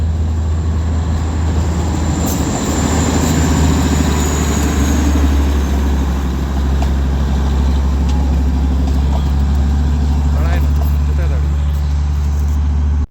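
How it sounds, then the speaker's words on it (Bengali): A steady low engine rumble with a hum builds into a continuous drone of an approaching Darjeeling toy train, with faint voices and clatter over it. "হঠাৎ করে দেখলাম টয় ট্রেন আসছে"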